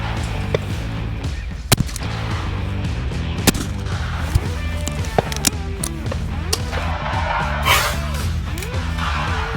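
Shotgun blasts at clay targets ring out as several sharp, widely spaced cracks over a loud, continuous background of music, with a brief voice in the mix.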